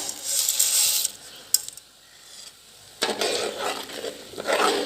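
A spoon stirring custard with roasted vermicelli in a pot, making soft metallic clinks and scraping that come in bursts with brief quiet gaps between them.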